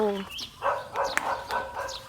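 A dog barks several times in short, yelping bursts at moderate distance near domestic elephants, mixed with a person talking in the clip.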